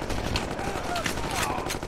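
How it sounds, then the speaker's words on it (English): Tommy gun fire in the game Gangsters 2 Vendetta: dense, rapid automatic bursts close and loud, an unbroken rattle filling the whole moment. "My dudes have Tommy guns."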